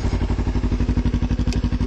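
A warmed-up Kawasaki Ninja 300 idles close by, a loud, rapid, even engine chug with a regular pulsing exhaust beat and no talking over it.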